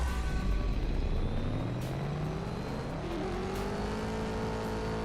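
Car engine revving hard in the mobile drag racing game CSR2, a loud continuous roar with rising harmonic sweeps as the car accelerates through first gear, steady and alone with no talk.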